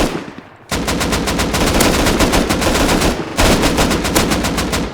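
Rapid automatic gunfire in the survival game Rust, loud and close, sustained bursts with a brief pause near the middle before firing resumes.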